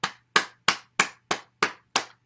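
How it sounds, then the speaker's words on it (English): Seven sharp hand claps in a steady, evenly spaced rhythm during a gentle qigong-style bouncing exercise session, close and crisp, each clap decaying quickly with no talk. "And then we clap."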